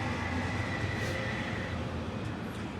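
A train rumbles through a railway station in Germany, a steady loud roar of rolling wagons with a faint tonal whine running through it and no talk.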